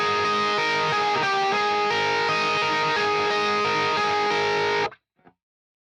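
A second electric guitar plays a distorted, effects-laden lead line over the chorus of a song, shifted up a step. It is a loud, sustained passage that stops sharply after about five seconds, followed by a brief faint string noise.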